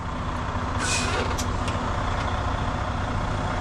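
A truck's air brakes release during a roadside inspection, giving a few short sharp hissing bursts over a steady idling engine rumble.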